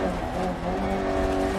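Mini Cooper S rally car engine in a rally racing video game, a loud steady drone with sustained harmonics that holds for the whole stretch, with no talk over it.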